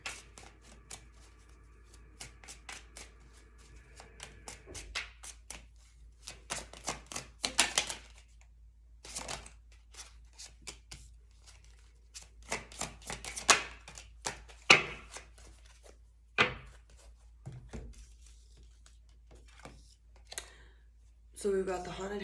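Tarot cards being shuffled and laid out, a run of quick, crisp papery flicks and taps coming in irregular bursts, close and fairly quiet, with brief quiet gaps between.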